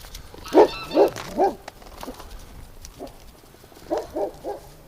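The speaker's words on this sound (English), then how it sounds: "Yeah, you bark, Doug." Doug the dog barks in two bursts: three loud, close woofs in quick succession, a pause, then a softer run of three or four barks.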